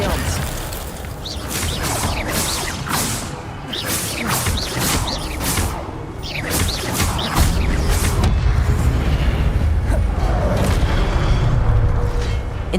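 Expelliarmus disarming spell cast during combat in the video game Hogwarts Legacy, a run of loud magical whooshes, booming impacts and crashing bursts repeating over several seconds, with low rumbling underneath.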